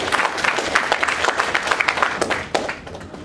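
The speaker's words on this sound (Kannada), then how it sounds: "ಸ್ವಲ್ಪ ಜೋರಾಗಿ ಬರ್ಲಿ ಚಪ್ಪಾಳೆ" An audience claps loudly and continuously at a Kannada film trailer launch for Pranayam, the dense applause fading slightly near the end.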